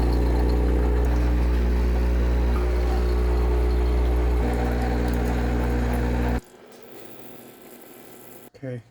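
A Breville coffee machine runs its descaling cycle with a loud, steady mechanical hum for about six seconds, then cuts off sharply, leaving quieter residual sounds and a brief noise near the end.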